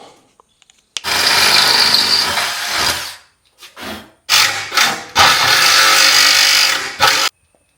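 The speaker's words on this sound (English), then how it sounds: "I'm just going to use a jigsaw" A jigsaw cuts through metal on a Jeep CJ custom dashboard project, loud and close, in several bursts of harsh buzzing with short pauses between cuts.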